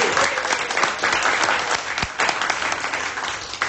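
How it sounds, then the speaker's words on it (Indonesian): A classroom of students applauds a student group, the clapping dense, even and sustained, a steady wash of many hands with no break and no talking heard. "berikan applause buat kelompok 7"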